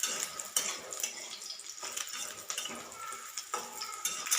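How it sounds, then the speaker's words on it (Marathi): Garlic being roasted until reddish in a hot pan, a steady bright sizzle and crackle with occasional scraping stirs, close and fairly even throughout. "हे बघा अगदी 2च मिनिटात लसूण देखील भाजतोय."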